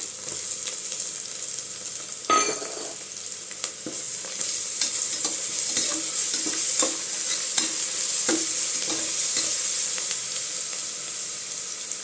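Ginger garlic paste frying with softened onions in a pan, a continuous bright sizzle with scattered clicks and scrapes of stirring up close.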